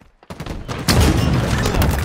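A burst of gunfire erupts in Halo Infinite multiplayer after a brief quiet moment, loud, close, dense rapid shots with thumping impacts filling the rest of the short stretch.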